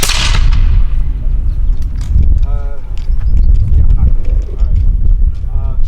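At a historical reenactment raid on Old Bethpage Village, a musket volley erupts in a single loud close crack that rings off, followed by voices and movement.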